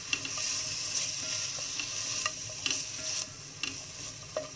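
Boiled, shredded chicken stir-frying in a pan for chicken macaroni, a steady sizzle broken by regular scraping spatula strokes, close and clear with no voices.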